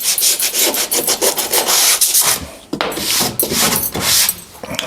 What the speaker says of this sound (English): I've scratched the surface here with some coarse sandpaper just to key it a little bit